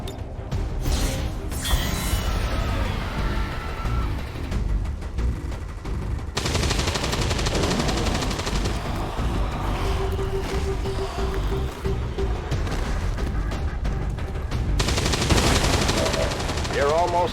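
Turret machine gun fire in the video game XCOM 2: War of the Chosen, loud sustained bursts of rapid gunfire with mechanical clatter and game effects, alongside in-game voices.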